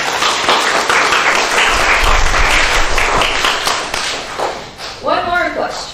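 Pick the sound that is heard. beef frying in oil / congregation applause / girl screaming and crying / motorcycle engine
congregation applause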